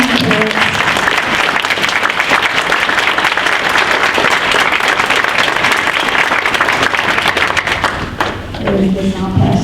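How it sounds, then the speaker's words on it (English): An audience at a governing board meeting gives the parents a sustained round of applause, dense, loud and close throughout, tapering as a voice begins speaking at the end. "I'd like the parents to stand up and get a round of applause"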